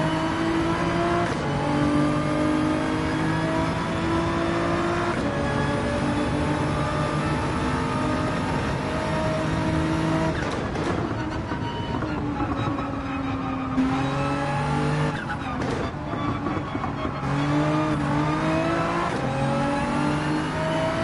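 A Porsche 911 racing car in Gran Turismo 7 drives continuously, its engine revving up and down through gear changes with steady loud whine and no talk over it.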